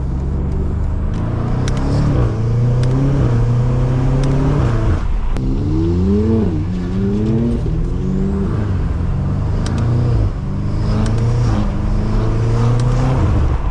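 Engine noise from cars on a backroad, with a 700HP BMW G80 M3 following close behind an 800HP F90 M5; rising and falling revs with harmonic sweeps, sharp crackling exhaust pops scattered throughout, loud and continuous.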